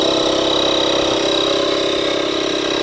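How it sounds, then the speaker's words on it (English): A portable air compressor runs steadily after being switched on at a caravan pitch, a constant loud mechanical hum and whine with no breaks. "just switch the air compressor on"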